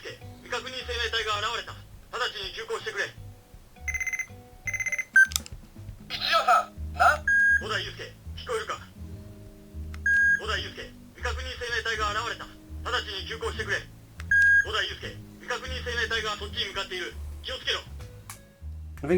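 A Kamen Rider Beat Chaser 2000 toy motorcycle from the DX Kuuga Beat Gouram set plays a run of electronic beeps, sound effects and recorded character dialogue, the bursts loud and close with short pauses between them.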